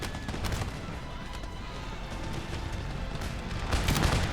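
Empire Total War troops fire musket volleys in a distant, steady crackle of overlapping shots, a rolling fusillade with scattered booms that stays fairly faint and builds slightly toward the end.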